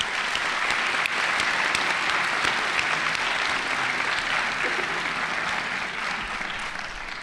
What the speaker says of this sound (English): Graduates, please join me in a round of applause for your special guests.